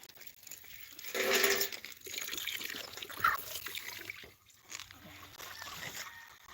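Water trickles and pours softly, set out for a strawberry plant, a faint liquid splash with low background noise and no talk over it.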